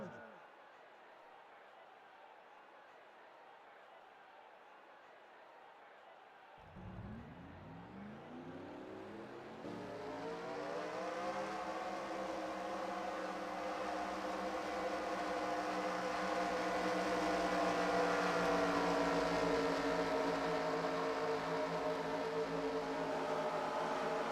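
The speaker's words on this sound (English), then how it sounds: "Drivers, start your engines!" Stock race car engines fire up in a NASCAR-style racing video game at Las Vegas, a low rumble swelling into a loud, layered roar of many engines idling together.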